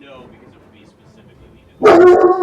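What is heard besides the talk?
dog barking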